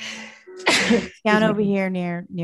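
A single sharp sneeze bursts out in a quiet civic meeting room, loud and close, framed by a person speaking just before and after it.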